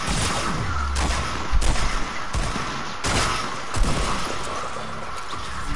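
Gunfire in a PS4 video game crackles in a dense, continuous barrage of overlapping shots and booms, loud and busy throughout.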